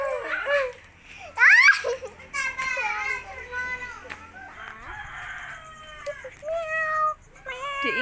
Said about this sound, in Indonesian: Anak-anak lagi lihat kucing di sana ya